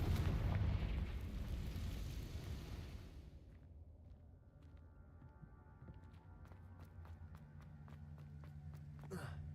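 Loud, dense burst of fire spell Confringo detonating in a Harry Potter video game, a rumbling blast for about three seconds that fades into quieter game ambience with scattered clicks and a faint voice.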